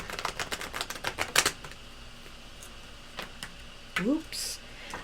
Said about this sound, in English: Let's shuffle them up real good for you.